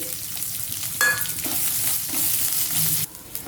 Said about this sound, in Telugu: ఉల్లిపాయ ముక్కలు ఈ విధంగా వేగాలి